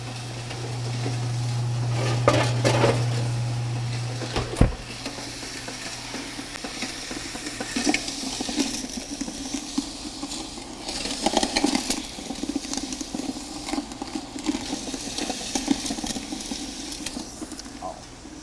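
A laboratory mixer churns an aggregate sample with a scraping, rattling texture, steady and moderately close, with a louder knock near the start.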